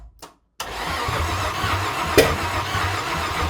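A Ford Galaxie 500 engine catches after a short crank in a shop, then settles into a continuous rough running rumble with a brief louder pop partway through.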